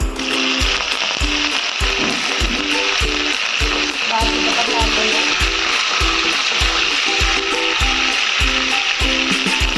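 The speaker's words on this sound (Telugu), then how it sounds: "పోపులు లైట్గా వేగాక కరివేపాకు వేసుకోవాలి" Curry leaves hit hot oil already crackling with tempering seeds, a loud dense sizzle running continuously up close, with a regular rhythmic tapping of a spatula against the pan throughout.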